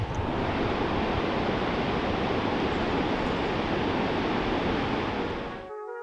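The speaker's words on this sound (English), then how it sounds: "And this is the beach." Ocean surf on a beach in Portugal, a loud, continuous roar of breaking waves with wind rush over the microphone that holds steady and then cuts off abruptly near the end.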